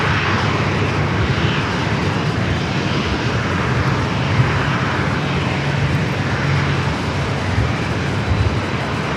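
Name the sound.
airplane taking off at San Diego airport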